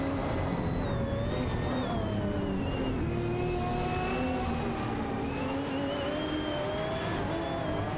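A Noble M500 and a Lamborghini Reventon race in a video game, engines holding a loud, sustained whine that rises and falls gently as they run close together.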